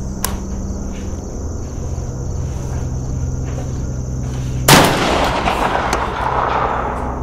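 A Spas 12 shotgun fires a single loud, sharp blast partway through, its boom decaying into a lingering rumble over a steady low hum and faint insect-like chirping.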